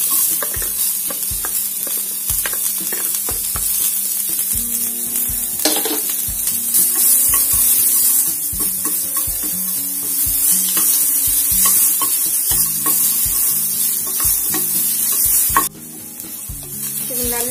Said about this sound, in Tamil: இதுலேயே நம்ம கட் பண்ணி வச்சுருக்கோம் இல்லையா ஒரு வெங்காயம், அதை போட்டு வதக்கிக்குவோம்.